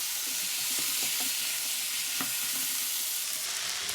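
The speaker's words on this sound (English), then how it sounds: "Peppers and the onions are stir fried." Peppers, onions, garlic, chillies and carrot batons sizzle in a hot pan, with steady frying hiss and a few scraping clinks as they are stirred, close up with no talking.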